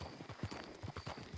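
Horse hooves trot in Red Dead Redemption II, an uneven, rhythmic clip-clop of fairly quiet thuds repeating across the moment amid ambient game sound.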